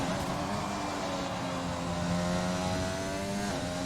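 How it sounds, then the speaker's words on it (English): In a sim racing game at Monza, a race car engine screams at high revs up to the limiter, with a loud, sustained whine whose pitch climbs steadily and then holds flat. "Didn't short shift to 6, so he let it run full to the limit of the revs"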